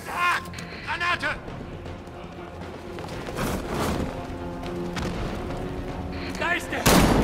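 A grenade goes off in Batman: Arkham Knight amid game gunfire and mechanical clanks, with bursts of impacts and a louder blast near the end. Voices in German shout over the action.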